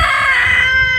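A rooster crows on an open farm with hens, one loud close call lasting the whole second, bright and strained, with no talk.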